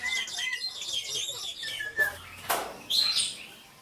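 Several bright, chattering greater blue-eared starling calls and sharp whistles come in quick succession at close range, with two abrupt rustling bursts in between.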